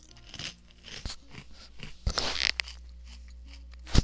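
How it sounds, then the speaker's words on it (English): A streamer chews food close to the microphone, with crunchy bites and wet chewing in an irregular rhythm, and louder crunches around the middle and end. "Hold for chewing noises because I need to feed my brain apparently."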